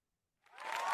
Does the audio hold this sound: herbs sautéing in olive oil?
no